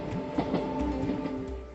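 A passenger train runs along the mountain railway line to Katra, its wheels beating a steady, rhythmic clickety-clack over the track joints under a constant rolling hum, moderately loud and close, with no voices.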